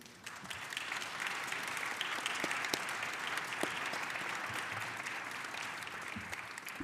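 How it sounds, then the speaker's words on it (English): Conference audience applauding panelists at a water users' meeting, a steady wash of many hands clapping, heard somewhat faintly from a distance and lasting throughout. "I'd like to ask you to give another round of applause for our panelists"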